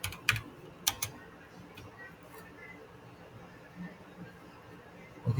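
Computer keyboard typing comes as a few sharp, isolated key clicks early on and a couple more at the end, close and crisp, separated by long quiet stretches with low background noise.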